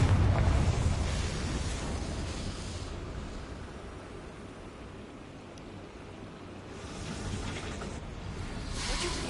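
A Confringo blasting spell explosion in Hogwarts Legacy, a loud roaring hiss that opens strong, fades through the middle and swells again near the end.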